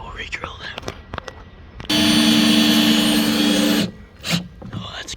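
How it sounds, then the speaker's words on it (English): A power drill whirs loudly and steadily for about two seconds, drilling a wooden porch stair, bracketed by soft rustling, taps and faint whispered talk. "Maybe we'll re-drill that."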